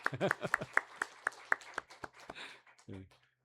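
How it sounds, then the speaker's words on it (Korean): A handful of sharp, separate hand claps ring out at a quick, uneven rhythm in a church congregation during a Sunday service, welcoming a returning member, with a voice heard briefly before and after. "우리 박수 한번 해주시겠습니다"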